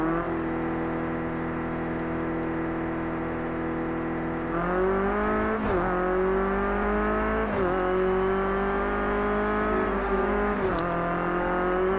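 A race car in Project CARS 2 at the small Knockhill circuit idles with a steady hum, then revs up hard, its engine note climbing through several distinct gear shifts, loud and close.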